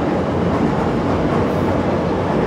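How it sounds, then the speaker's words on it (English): A train rolling past in Chicago, a steady loud rumble with dense broadband noise holding level for the whole stretch, no voices over it. "Anyway, the Chicago train."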